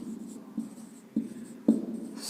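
A pen scratches across paper in close, steady handwriting strokes, a soft continuous scraping with a few sharper taps as letters are formed.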